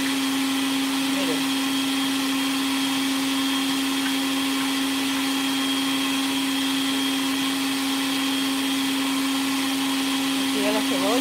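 An electric blender runs with a steady, high motor whine and constant hum for the whole stretch, close and unbroken, as a home cook prepares a fish dish.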